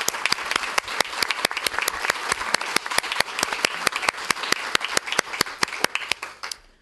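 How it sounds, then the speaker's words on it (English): Steady audience applause at a Millbrae city council meeting, dense clapping with sharp individual claps rising above the crowd throughout, fairly close and continuous until it fades at the end. "can you give them a round of applause?"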